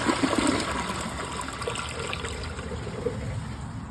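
A 2005 Kohler Highline comfort height toilet flushes up close, a loud rushing swirl of water that settles into a steady draining trickle over several seconds, with no talking.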